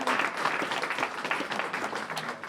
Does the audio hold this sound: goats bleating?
no